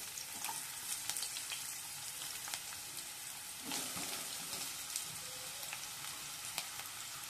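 Sliced onion fries in hot oil in a kadai with star anise and a bay leaf for chicken dum biryani, giving a faint, continuous sizzle with occasional stirring clicks.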